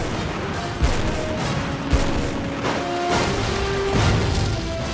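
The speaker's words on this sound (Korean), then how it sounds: "함포 발사. 발사!" Naval gun aboard an Aegis destroyer firing at coastal artillery, heard as a few sharp booms at irregular intervals over a steady rumbling, layered battle background with no talk.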